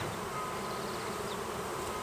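Honeybees humming in a hive, a dense, steady buzzing drone heard close up and continuous, with no voices.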